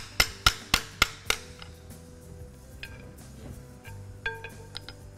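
Hammer striking a chisel to bend up a lock tab on a nut during a Twin Disc PTO clutch installation: five sharp metallic blows in quick, even succession, followed by quieter clinks and a few ringing taps.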